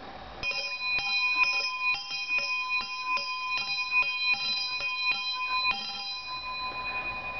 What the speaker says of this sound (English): you turn the wheel and the bell clangs, has a heavy clapper, and makes a really nice loud tone